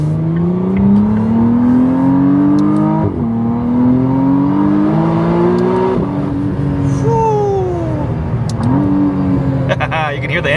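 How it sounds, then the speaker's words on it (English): A McLaren Artura Spider engine revs up repeatedly in manual sport mode, rising pitch sweeps climbing and dropping with gear changes, loud and close from inside the cabin with faint talk. "so you can hear the engine a little bit better"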